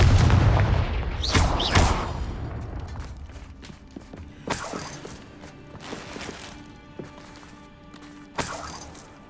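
A Confringo blasting spell from the Hogwarts Legacy video game explodes with a heavy boom and shattering crack, followed by further sharp blasts and crashes spaced out over several seconds amid fainter footsteps.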